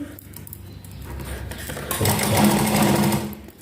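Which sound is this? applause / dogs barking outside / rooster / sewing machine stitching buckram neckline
sewing machine stitching buckram neckline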